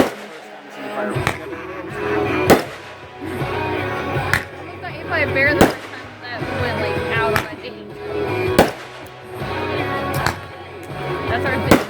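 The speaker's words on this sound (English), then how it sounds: "This is our first time seeing fireworks." Fourth of July fireworks, with sharp cracking bangs going off roughly every one and a half to two seconds under steady nearby conversation.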